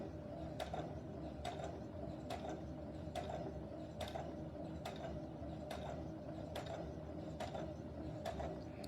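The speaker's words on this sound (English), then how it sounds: "you're literally just stitching at a 1/4 inch all the way down" A sewing machine runs a steady stitch along face mask fabric at a quarter-inch seam, a continuous mechanical whir with regular clicking beats about twice a second, close and even throughout.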